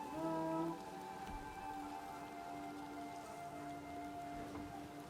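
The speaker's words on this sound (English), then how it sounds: "It's pouring down rain, but it's better than nothing." Steady pouring rain in the video game Gord, a dense continuous hiss with a faint low tone in the background and no voices.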